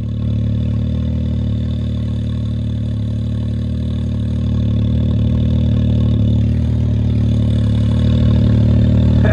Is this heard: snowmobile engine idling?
yes